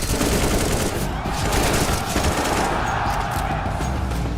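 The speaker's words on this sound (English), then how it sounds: "Counter-Strike is known for its visceral and satisfying gunplay." Dense rapid gunfire from the video game Counter-Strike 2, loud sustained bursts and shots filling the mix continuously with no pauses.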